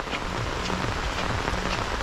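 Steady rain falls in a rural village, a dense even patter of drops on surfaces throughout, close and continuous with no voices.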